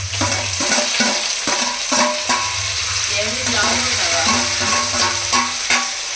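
Chopped onion, lengthwise-slit green chillies and tomato frying in a hot pan, a loud, steady sizzle with repeated rhythmic scraping strokes of stirring throughout.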